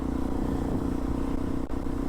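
Steady engine drone from a Suzuki DRZ 400 SM motorcycle being ridden, close and continuous at an even pace, with a brief dip near the end and no voices.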